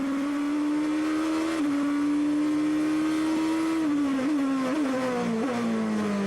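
A GP2 race car with a four-liter V8 gives a loud sustained engine drone that holds fairly steady, then dips and wavers through quick shifts near the end.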